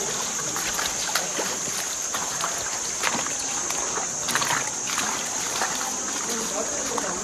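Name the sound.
wading through stream water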